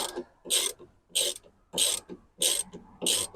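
A ratchet snugs up a bolt on a 2022 Vauxhall Movano van door mirror, giving five evenly spaced bursts of clicking about half a second apart, close and fairly quiet, with no talking.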